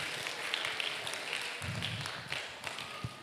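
Secondary school students in a hall clapping together at a road-safety outreach session, a steady spread of applause with scattered sharper claps, heard at moderate distance and without any talking.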